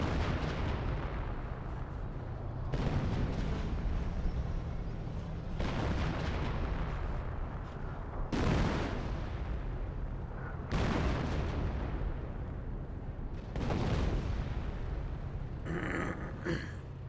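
MG42 machine gun fire in the World War II strategy game Company of Heroes, loud broadband bursts repeating every few seconds over a constant battlefield rumble, with no talk.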